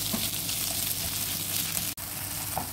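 Bagoong alamang (shrimp paste) sizzles steadily in a hot pan, a continuous close hiss of frying broken by one brief dropout near the end, with no talking.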